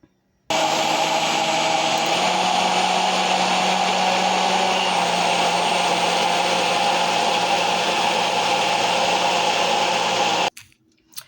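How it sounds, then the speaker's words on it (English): A blender whirs loud and steady for about ten seconds, puréeing a cauliflower smoothie, then cuts off abruptly, with no talking. "I'm going to go ahead and get ready to blend this up"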